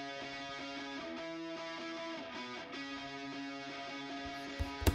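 Electric guitar through a wide, crunchy Guitar Rig preset, distorted sustained chords shifting through a progression at an even level, ending in a few sharp clicks or pick hits, with no speech.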